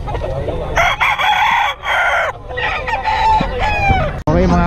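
Many roosters crowing and chickens clucking at a busy fowl market, loud and overlapping close by, with a few voices mixed in.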